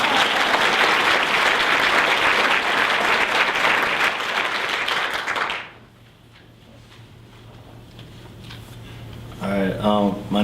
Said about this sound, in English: Do you mind giving Mark Morrison another hand of applause again?